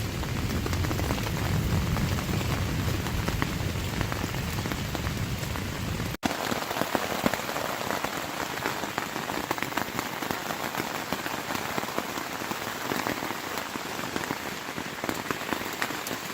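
Steady rain patters densely on a taut tent fabric close by during a thunderstorm on the Appalachian Trail, a constant hiss of drops with a brief break partway through and no voices.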